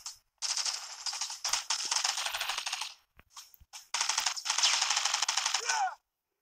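Bursts of Uzi submachine gun fire from the mobile shooter Modern Strike, rapid and crisp at moderate volume: two long bursts, then a gap with a few scattered shots, then another sustained stream that cuts off abruptly.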